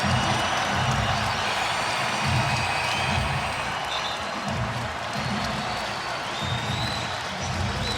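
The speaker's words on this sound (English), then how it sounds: "And listen to this crowd." Basketball arena crowd at a college game involving the Providence Friars, a sustained roar of cheering and clapping that stays loud and continuous throughout, with no clear breaks.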